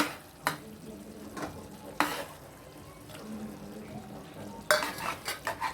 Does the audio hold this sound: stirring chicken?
yes